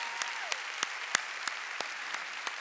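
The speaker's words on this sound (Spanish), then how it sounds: "Démosles un aplauso de amor a nuestros pastores" A church congregation applauds its pastors with a steady wash of clapping, several sharper individual claps standing out in an even rhythm above the crowd.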